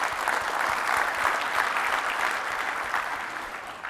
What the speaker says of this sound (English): can we give Jeff Thomas a big round of applause?